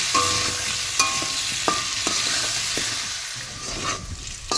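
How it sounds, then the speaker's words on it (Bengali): Potatoes frying in a pan with salt and turmeric, a steady sizzle punctuated by sharp scraping stirs and taps of a spatula, no one speaking. "আলু ভাজা হয়ে গেছে, এবার তুলে নেব।"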